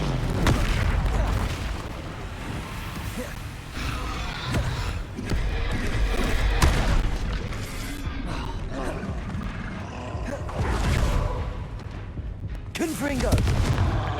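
Confringo and Incendio spells cast in Hogwarts Legacy on Switch 2: heavy fiery booms and roaring blasts in repeated bursts, separated by short gaps, with a voice talking over them.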